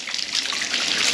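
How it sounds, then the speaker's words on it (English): Water runs steadily from bath taps in a home bathroom, a close, continuous splashing hiss with no voices. "taps running"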